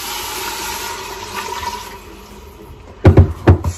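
Water poured into a cooking pot with chicken and garlic, a steady splashing stream for most of the clip, then several louder sloshing bursts near the end.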